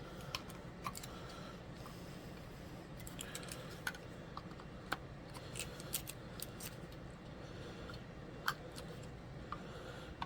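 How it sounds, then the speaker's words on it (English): Scissors snip and trim excess material and cut into the corners of a camera case, with small sharp clicks scattered irregularly over a steady background hum, close and fairly quiet. "Trim off some excess, as well as cutting into the corners."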